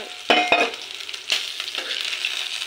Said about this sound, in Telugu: ఇప్పుడు మనకి పచ్చిమిర్చి వెల్లుల్లి కూడా బాగా ఫ్రై అయిపోయాయి